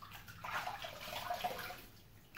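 Water runs from a tap for rinsing while shaving, a soft steady splashing stream, faint and close, with no talking.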